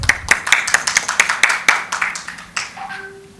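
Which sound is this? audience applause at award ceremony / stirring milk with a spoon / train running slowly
audience applause at award ceremony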